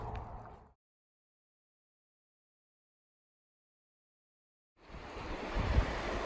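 A river flows through Gallatin Canyon as a broad, rushing wash. It is heard briefly at the start, then drops to silence, and returns louder near the end.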